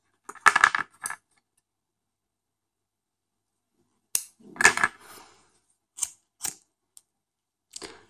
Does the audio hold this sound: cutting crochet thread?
yes